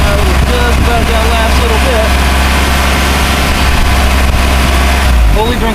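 Mazda MX-5 Miata engine running at a steady idle while drawing in Seafoam, a constant loud low rumble throughout with a voice talking over it.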